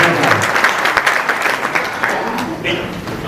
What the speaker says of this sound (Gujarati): જગદીશભાઈ માટે જોરદાર તાળીઓ પાડીશું